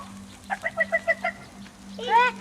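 A day-old wild bird chick calls from a nest after smoke drove the birds out, giving a quick run of six high, bright peeps followed by a louder, rising chirp, close by over a steady low hum.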